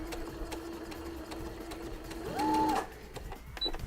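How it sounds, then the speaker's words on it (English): A sewing machine backstitching with a double piping foot, a brief run of fast mechanical stitching close by that briefly rises in pitch and volume near the end. "So then I'll backstitch."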